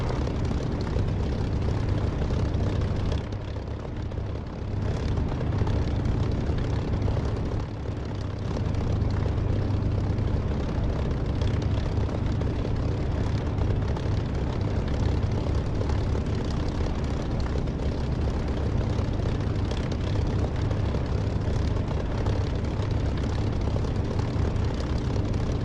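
An aircraft engine in a DCS or War Thunder flight sim drones steadily with a low, throbbing rumble, unbroken apart from two brief dips, with no voices.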